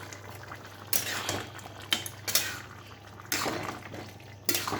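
A metal spoon stirs and turns mushroom curry with garam masala in a pan, giving scattered scraping and clinking strokes over a soft sizzle, close and moderately loud.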